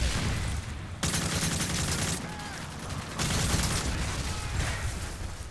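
Gunfire in Call of Duty Modern Warfare 3 multiplayer, rapid bursts of automatic shots and fusillades crackling in dense volleys with short pauses, loud and close throughout.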